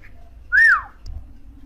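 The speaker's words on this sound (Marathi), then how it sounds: "तर चला आपण एक वेळ इथे शिट्टी वाजवूया।" A single short whistle from a person to trigger a phone's whistle-finder, a rising then falling note lasting about half a second, loud and close in a quiet room.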